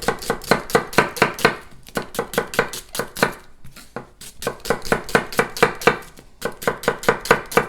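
A knife cuts a peeled vegetable lengthwise on a wooden board in a fast, even run of close, crisp chops. Two brief pauses break the run, and each time the chopping picks up again in the same rhythm.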